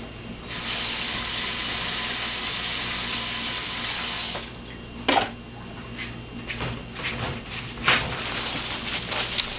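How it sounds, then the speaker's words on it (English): Hands being washed under a running kitchen tap before cooking rice: steady close water stream for about four seconds, then broken splashing and rubbing with a few sharp spatters as the flow is interrupted. "before you cook anything, you want to go ahead and wash your little hands."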